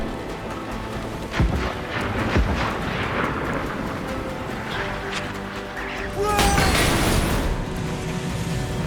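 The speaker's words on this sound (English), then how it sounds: "I didn't brace for the mortar." Mortar fire booms and crashes into a sailing ship in Assassin's Creed Black Flag, heavy rumbling blasts and a loud splintering impact near the end, under ongoing talk.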